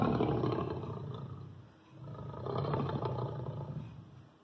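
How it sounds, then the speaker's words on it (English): A lion's roar played back through a smart speaker: two long, rumbling roars, with a brief dip between them, loud and close with no talk. "make lion sound. This is a lion."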